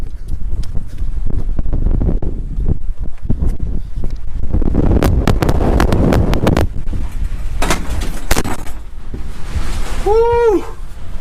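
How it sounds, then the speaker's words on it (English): Strong cold wind gusting across the microphone outdoors in Cripple Creek, Colorado, loud buffeting rumbles in bursts with some clattering and knocks, near and rough, with a short whoop of a voice near the end. "Do you hear that wind?"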